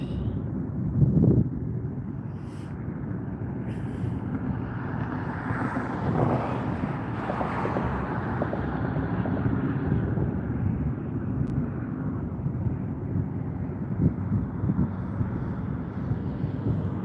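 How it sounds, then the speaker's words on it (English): A jet aircraft takes off at Las Vegas airport, a broad, distant roar that holds steady for the whole stretch, mixed with wind buffeting the microphone. "See another aircraft taking off."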